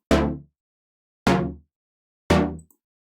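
Three identical synthesizer stabs with the same envelope applied to the oscillator's volume, each a bright, sharp attack that quickly fades over about half a second, spaced roughly a second apart with silence between them.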